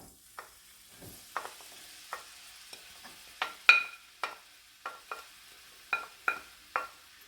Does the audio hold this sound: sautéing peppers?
yes